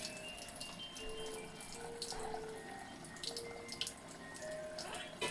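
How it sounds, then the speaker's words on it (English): Warm water runs steadily from a kitchen tap into a sink, a soft continuous hiss and splash at moderate distance, with faint clinks and no talk. "I'm going to turn the warm water on."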